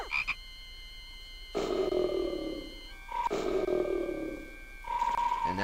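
Deep, rumbling frog croaks from the Discworld video game, three drawn-out croaking bursts in a row, loud and close against a droning game background.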